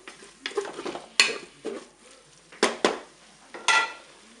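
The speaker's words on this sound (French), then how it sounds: "Et je vais mélanger tout ça." A spoon stirs curry powder, garlic and pepper in a Cookeo multicooker pot, making several close, irregular scraping strokes against the pot with short pauses between them. No one talks.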